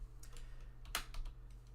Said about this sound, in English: Probably the easier to type it out.